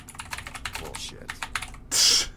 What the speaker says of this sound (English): That wasn't me clicking, actually. That's just me typing.